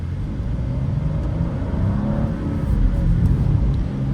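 A 2024 BMW M2 with a manual gearbox shifting into second gear, its engine a steady mid-pitched hum and rumble from inside the cabin that swells slightly toward the end. A voice talks over it.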